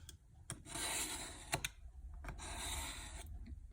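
A knife blade is drawn through a Milwaukee knife sharpener, giving repeated close raspy grinding strokes, each lasting about a second, with sharp clicks between passes.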